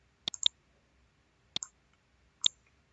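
Sharp computer mouse clicks while working in Revit, a quick double click followed by two single clicks, close and crisp against a quiet background.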